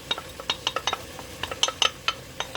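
A metal utensil clinks rhythmically against a pot as onions and garlic are stirred into simmering pork chili. The sharp, close taps come in a quick, irregular run with no talk.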